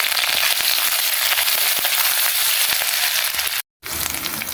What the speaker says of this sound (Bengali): জিরা ফোড়নটা ভাজা হয়ে এলে বন্ধুরা তারপরে দিচ্ছি আদা বাটা